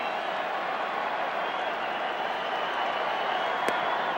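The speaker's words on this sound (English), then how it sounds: "A lot of ways to describe this crowd, raucous and bedlam" A raucous, packed stadium crowd at Game 2 of the 1987 World Series roars in a continuous, dense wash of cheering and noise, steady and loud throughout, with no clear individual voices.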